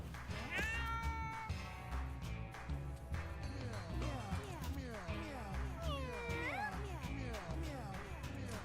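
Cartoonish cats meow repeatedly in the Mewgenics video game, their rising and falling cries overlapping one another over a continuous bed of game music, loud and close.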